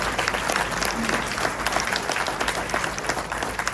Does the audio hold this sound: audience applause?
yes